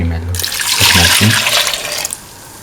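Coconut milk is poured into a pan of kidney bean and tomato stew, giving a steady, close liquid pour that rushes for about two seconds and then trails off.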